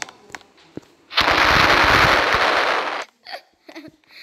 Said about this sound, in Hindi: ऐसी फोड़ दूँ बम